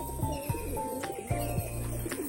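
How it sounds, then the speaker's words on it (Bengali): Rock pigeons cooing close by, a few short soft throaty coos repeated in a loose rhythm against a faint background, with no one talking. "এই দেখো সব গোলা পায়রা চলে এসছে।"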